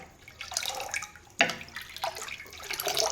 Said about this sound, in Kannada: ಬಾರ್ಲಿ ಅದಕ್ಕೆ ನೀರು ಜಾಸ್ತಿ ಪ್ರಮಾಣದಲ್ಲಿ ಹಾಕಿದ್ದೀನಿ ನಾನು